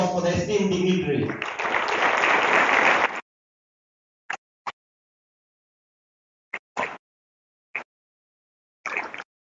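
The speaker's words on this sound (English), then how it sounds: "can we hear a huge round of applause for the esteemed dignitaries?" Speech at the Agrovon event gives way to a burst of audience applause for the dignitaries, lasting about a second before cutting to silence broken by a few short, isolated sounds.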